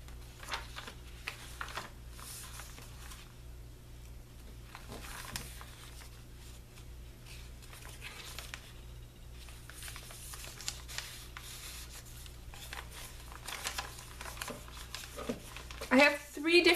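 Sheets of vintage ledger paper are handled up close, with soft rustling, rubbing and shuffling sounds continuing steadily and a few sharper crinkles near the end, while someone talks.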